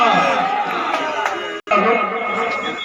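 A crowd at a ceremony greeting an MLA with loud applause and cheering, a dense sustained roar of many hands and voices with a brief cut in the middle.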